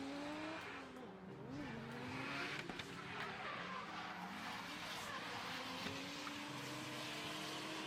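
Drift cars at full throttle on a dirt track during a French drift championship round: engines roar and tires squeal and skid continuously, heard from a moderate distance, with faint crowd or commentary murmur beneath.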